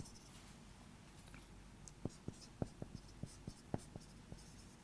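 Marker or chalk strokes tap and scratch on a board during a maths lecture, about a dozen short, sharp knocks spaced irregularly over a quiet room hum.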